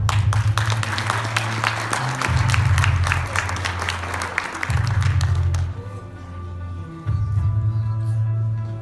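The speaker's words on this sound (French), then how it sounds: "Mais pour commencer, voici pour vous Robin, un jeune magicien de la Plagne. Sous vos applaudissements." An audience claps for a young magician from La Plagne, a sharp dense patter of applause over loud pulsing stage music that fades out near the end while the music carries on.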